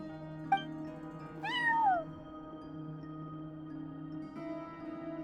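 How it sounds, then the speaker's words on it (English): A cat in the game Genshin Impact gives a short sound and then one clear drawn-out meow, set against a steady tonal background hum. "cat watching over the front desk. Excuse meow?"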